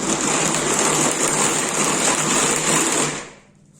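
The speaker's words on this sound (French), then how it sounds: "en vitesse 1, je vais donner quelques tours pour nettoyer les pales" A kitchen mixer's blades spin at speed 1 in a Speedy pitcher while cleaning off madeleine batter, a loud, steady whirring drone close by that cuts off abruptly near the end.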